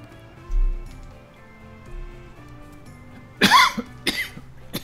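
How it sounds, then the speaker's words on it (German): A person coughs sharply twice near the microphone, a loud burst followed by a smaller one, after a stretch of quiet game background music with soft ticking. "Sorry wegen den Huster."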